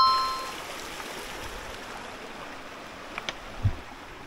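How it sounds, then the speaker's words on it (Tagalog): Water flows steadily at a lagoon campsite in San Isidro, Montalban, Rizal, a soft continuous trickling wash with a few faint splashes and bumps near the end. "So dito nang gagaling yung tubig na naiipon dun sa 4K."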